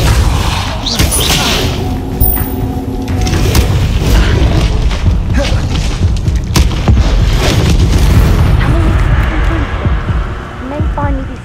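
A Depulso force spell is cast in the video game Hogwarts Legacy, producing loud booming blasts and thuds over a dense, continuous rumbling mix.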